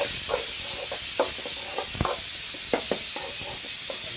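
A pressure cooker on the stove gives off a steady, close hiss of escaping steam, broken by faint clicks and rattles, with no voices.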